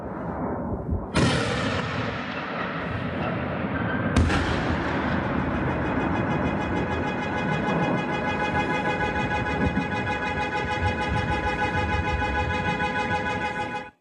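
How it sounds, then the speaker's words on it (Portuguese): Explosions from a nighttime drone attack, with two sudden sharp blasts a few seconds apart followed by a sustained loud roar and ringing that lasts to the end, with no talk. "E aí a gente vê o tamanho das explosões"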